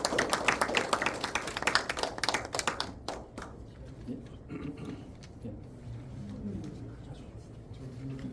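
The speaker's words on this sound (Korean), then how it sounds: "뜨거운 박수 보내주시기 바랍니다" Audience applause at a literary seminar, brisk clapping from a modest crowd for about three seconds, then fading into a quieter room with a faint voice.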